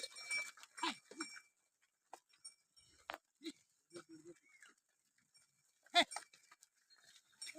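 Several Ongole cattle low and bleat at scattered moments outdoors, with short calls close by and others farther off, separated by quiet gaps.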